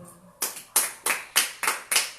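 A church congregation gives several sharp, evenly spaced bursts of clapping, about six crisp claps in a steady rhythm, close and moderately loud with no talking over them.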